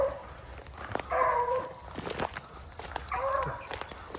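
A hunting dog rustles and moves through a field during a rabbit hunt, with brief dog whimpers and footstep-like crunches between patches of outdoor sound.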